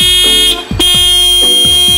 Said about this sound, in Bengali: টিআই অরিজিনাল হর্ন অনেক দিন অ্যাভেলেবল ছিল না আবার অ্যাভেলেবল